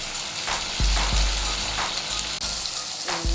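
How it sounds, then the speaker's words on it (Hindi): Chicken meat frying in a pan over high heat, a steady loud sizzle with stirring scrapes and clatters through it, no voices. "इस तरह से आपने तेज आंच पे इसको फ्राई करना है।"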